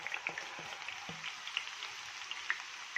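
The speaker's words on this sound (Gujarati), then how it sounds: "એને ક્રિસ્પી તળાય ત્યાં સુધી આપણે તળી લેશું।" Raw banana wafers fry in hot oil, giving a steady soft sizzle with faint crackles and a few light taps, fairly quiet and with no talking.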